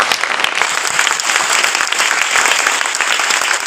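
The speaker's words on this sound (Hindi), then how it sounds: "ताली बजाएंगे।" Listeners at a Hindi Christian sermon clap loudly and continuously in a dense burst of applause, nearby and with no speech.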